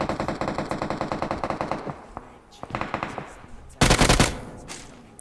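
Automatic gunfire from a battle royale mobile game comes as rapid, evenly spaced bursts, followed by scattered shots and a loud blast, all close and sharp.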